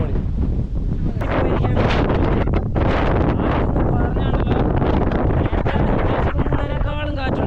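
Strong wind buffeting the microphone on a hilltop before sunrise, a loud steady roar with gusty rushes, and a voice talking underneath.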